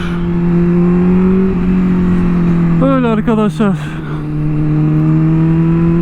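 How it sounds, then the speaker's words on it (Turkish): Honda CBR 600RR sport motorcycle idling with a steady high drone, then revving sharply in quick rising bursts before settling back to idle, close and loud, with someone speaking briefly over it. "Araba çıkıyor."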